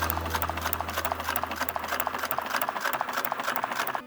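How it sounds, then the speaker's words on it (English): A double needle French seam sewing machine stitching upholstery for an International Scout II interior, running steadily with a rapid, even mechanical chatter and low motor hum, close and loud. "this double needle French seam machine"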